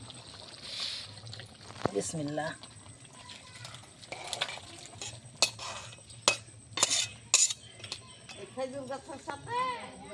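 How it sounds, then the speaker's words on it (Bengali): Cooked goat meat curry is poured and scraped out of a metal wok, giving scattered clinks and scrapes of spoon on metal between stretches of nearby talk. "এবার আমি মাংসটা কড়াই থেকে ঢেলে ফেলবো জায়গায়"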